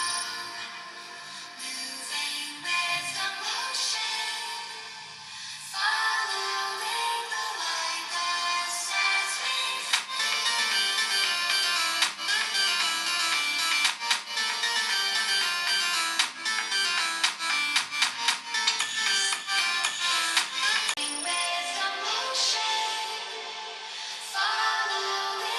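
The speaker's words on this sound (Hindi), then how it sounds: "मैं आपको दोनों ही फोन्स के स्पीकर की आवाज एक एक करके सुना देता हूं" Lava Agni 3 and Lava Agni 4 smartphone speakers take turns playing a loud, bright ringtone-like melody, continuous and full for about 25 seconds with a brief dip around the five-second mark and a short gap near twenty-one seconds.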